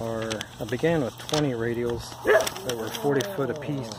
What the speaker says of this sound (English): And yeah, that's the dog.